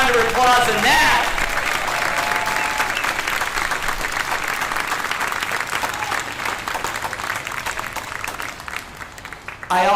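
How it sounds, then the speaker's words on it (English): Sustained, dense applause from a large audience honoring faculty and staff at a college graduation ceremony, with a voice briefly heard over the opening as clapping fills the hall for the full stretch. "Let's give them a bigger round of applause than that."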